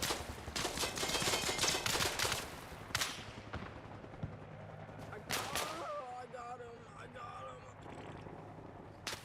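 Gunfire in Arma Reforger during a military simulation session, with dense bursts of rapid shots early on and scattered single cracks later, under voices talking and some chatter.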